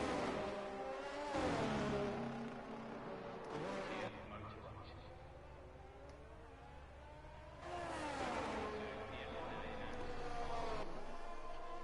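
A Haas race car in a racing video game roars past on an out lap, its engine whine climbing and falling in pitch, with a second surge of engine noise later, all under continuous commentary.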